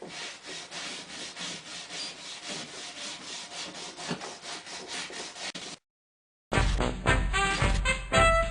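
A wire brush scrubs the ribbed rubber part from an Atari Red Baron arcade machine in quick, repeated rasping strokes, close and steady, broken by a short silence before a louder burst of scrubbing.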